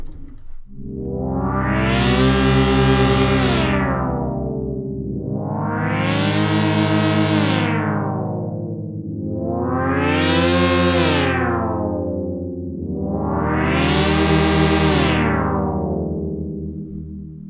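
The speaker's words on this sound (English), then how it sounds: "This will alter the pitch of only the second oscillator and leave the first oscillator static." A synthesizer tone has pitch modulation on its second oscillator while the first holds steady, producing four slow, loud sweeping swells that rise and fall in pitch with a buzzy, harmonically rich timbre, heard alone.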